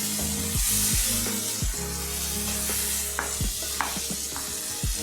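Turmeric and cumin powder sautéing in hot oil for a mutton curry, a loud continuous sizzle with repeated spatula scrapes and stirring strokes across the pan, close up.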